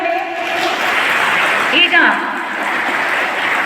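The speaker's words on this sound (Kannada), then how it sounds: "ಒಂದು ಜೋರಾದ ಚಪ್ಪಾಳೆ ಬರಲಿ." An audience claps at a district International Yoga Day award ceremony honouring yoga achievers in Chikkamagaluru. The steady, sustained applause fills the hall, and a voice speaks briefly over it.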